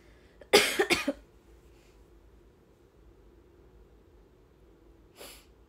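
A woman's couple of sharp coughs in quick succession near the start, followed by quiet and a fainter single cough near the end.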